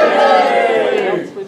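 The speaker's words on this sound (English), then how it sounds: "I want you to cheer!" Audience at a commedia performance during a kingdom arts and sciences festival cheering loudly together, a dense burst of voices shouting and whooping that tapers off near the end.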